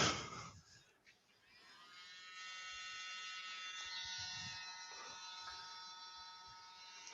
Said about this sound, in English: Give that a bit of a dry with the hot air gun.